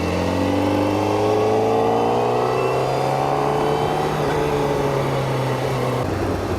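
Honda CBR1000RR-R Fireblade SP engine droning steadily on a downhill mountain road, loud and close, its tone sweeping smoothly through revs with a low constant hum underneath.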